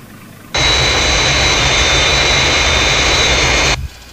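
Fireflash aircraft from Thunderbirds on its runway approach: a steady, loud jet roar with a high whine starts abruptly, holds evenly for about three seconds, then cuts off.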